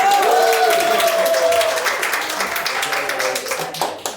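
Steady applause from a book presentation audience in Mexico, a dense wash of clapping after a brief voice at the start, with a few sharper individual claps near the end.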